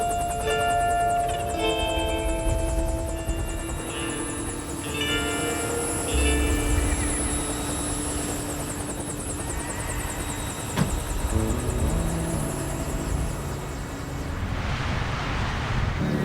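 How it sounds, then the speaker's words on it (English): A rescue helicopter runs continuously with a steady engine whine and rotor roar at a backcountry ski rescue, holding at a constant loud level throughout with wind noise and no voices. "Once the leg is protected, Tim brings the skier to the heli."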